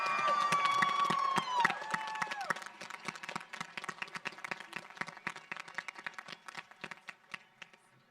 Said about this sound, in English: let's give a big round of applause to all these graduates